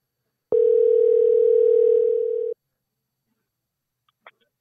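A single steady telephone ring tone sounds for about two seconds on an outgoing call, loud and clean. Silence follows, then a faint brief click.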